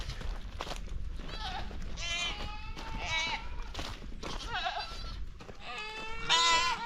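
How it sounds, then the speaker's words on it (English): Goats on a farm bleat again and again in loud wavering cries that overlap. They crowd in at the spot where they are usually fed, someone talks intermittently in between, and there are rustling outdoor sounds. "all these goats are coming around to this side because this is where I normally give them feed at"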